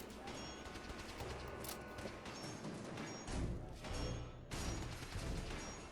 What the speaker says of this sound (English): I think they're shooting at me.